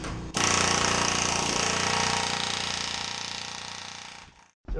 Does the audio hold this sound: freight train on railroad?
no